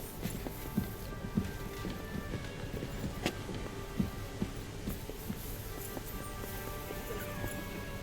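A horse clip-clops steadily through a scene in the medieval video game Kingdom Come: Deliverance 2, its hoofbeats faint and evenly paced over a busy background bed.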